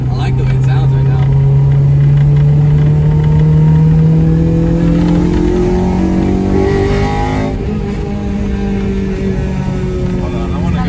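A Honda Civic DX with a K20Z3 engine, converted from automatic to manual and running without its O2 sensor, revving and pulling with rising and falling engine pitch, loud and close, with people talking over it.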